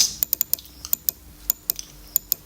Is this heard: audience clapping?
no